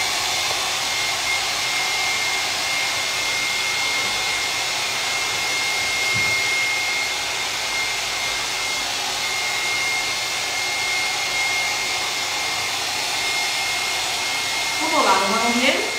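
A hair dryer blows steadily and close by for the whole stretch, drying a coat of frost-effect paint. A brief faint voice comes in near the end.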